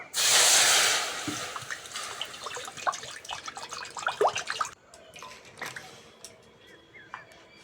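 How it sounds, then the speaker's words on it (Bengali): Water gushes into a kadai of beans from a loud close splash, then settles into lighter dripping, trickling and clinks of the pan. "কড়ার মধ্যে জল দিয়ে দেবো।"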